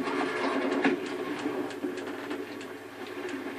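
A tram rolls past in the video game Call of Duty: Advanced Warfare, a steady low rumbling drone with faint clanks, moderately loud and continuous throughout.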